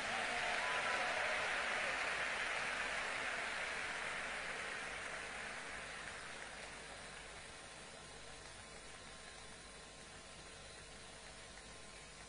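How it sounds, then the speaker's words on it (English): Congregation clapping at a large church white wedding, a broad wash of applause that is loudest at the start and gradually thins and fades over about twelve seconds. "Can we make that hand clap bigger for Jesus?"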